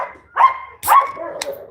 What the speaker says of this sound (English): 11-year-old Mastiff right there.